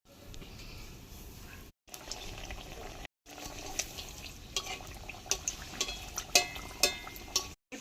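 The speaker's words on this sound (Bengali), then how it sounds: "এবার একে একে এই টিফিন নাস্তাগুলি তেলে ভেজে নেব" Flour tiffin snacks deep frying one by one in hot white oil in a wok, a steady low bubbling hiss broken by two brief gaps, with louder crackles and sharp spatters rising toward the end.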